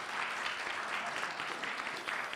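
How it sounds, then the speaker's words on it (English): A conference audience applauds lawyers with a brief, steady burst of clapping from many hands across a room, moderately distant and even in level. "You don't usually get applauded"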